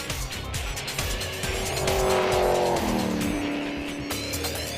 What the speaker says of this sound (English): Smoking all 4 tyres off the line, Cronje seemed determined